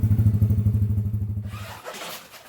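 A custom Honda ATC 70 three-wheeler on a test drive, its small engine thumping in a fast, even putter up close before cutting off into softer rustling.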